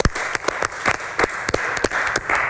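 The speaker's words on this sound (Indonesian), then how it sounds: "tepuk tangan lagi untuk Bapak" A brief round of studio applause for a retired man in a health segment, with a few sharp claps standing out over steady clapping from a small audience.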